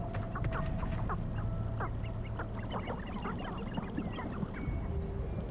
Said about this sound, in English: You're like strange little chickens.